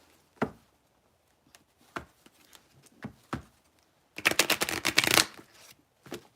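Tarot cards are handled during a reading: a few soft separate taps and slaps as cards are drawn, then a dense burst of riffle shuffling, all close and quiet with no talking.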